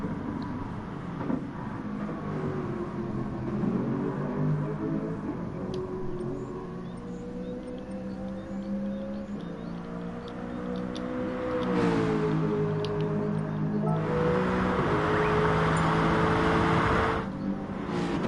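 GT1 race car engine in a racing video game at Interlagos, a steady droning whine that climbs and drops in pitch with gear changes, a louder burst near the end, moderately distant.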